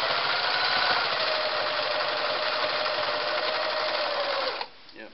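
A Singer Model 353 Genie sewing machine runs steadily at speed, stitching through about eight layers of material in a loud, continuous whirring drone that stops abruptly near the end.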